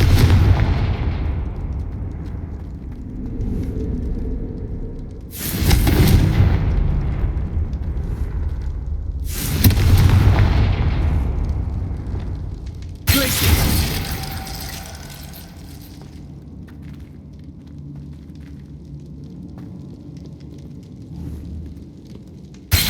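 Three heavy Confringo spell blasts in the Hogwarts Legacy video game, each a loud booming burst that rolls off into a long rumbling decay, spaced several seconds apart over a low background of game ambience.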